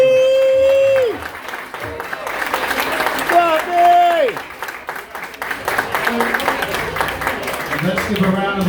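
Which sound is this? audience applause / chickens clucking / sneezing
audience applause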